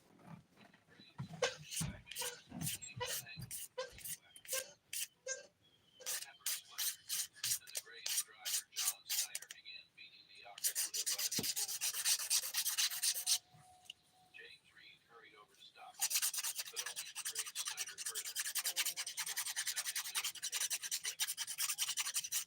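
Dip powder nails are filed and smoothed, first in a run of short rhythmic rasping strokes, then in long continuous rubbing passes, close up.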